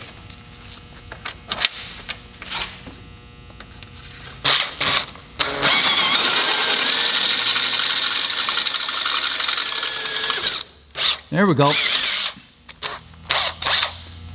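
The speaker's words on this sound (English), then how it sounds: "Time to drill. All right, next step, 1/4 inch." A power drill bores a quarter-inch pilot hole through the flat bed of an XP camper, starting with short bursts, then running in one long continuous whine before stopping, followed by brief further bursts. Someone speaks briefly.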